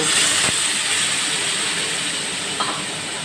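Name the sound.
hot water poured into cooking pan of potato curry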